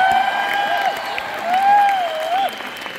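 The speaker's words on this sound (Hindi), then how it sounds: "मैं चाहूंगा एक बार जोरदार तालियां पर मिस्टर हरीश अरोड़ा" A crowd at a Vestige award function gives loud, sustained applause as speaker Harish Arora is welcomed to the stage. The clapping swells and ebbs, and a faint tonal music line sounds underneath.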